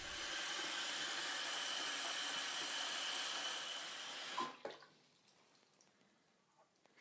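Water pours steadily into a container being filled for a waterproof test of a Lifeproof iPhone 6 case, a loud broadband rush lasting about four seconds before stopping abruptly into quiet drips and faint handling.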